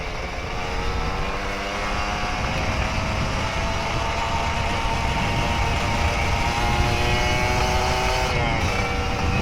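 An old Kawasaki Ninja RR 150 two-stroke motorcycle, started after two years unused, idles with a steady, raspy buzz up close, swelling briefly near the end.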